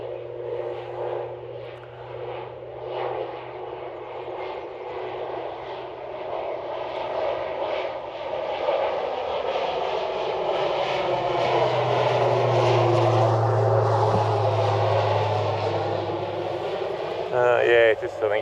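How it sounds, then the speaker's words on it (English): Crop-spraying plane applying fungicide to wheat on a neighbouring farm, its engine droning at a distance and swelling louder as it passes nearer, under someone talking throughout. "I've got the plane working here at the neighbours."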